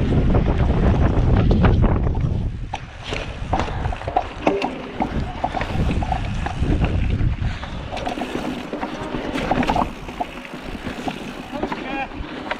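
Wind buffets the microphone during an e-bike mountain bike ride in Gisburn Forest, loud low rumbling gusts strongest at the start, mixed with rolling and rattling trail noise and occasional voice sounds.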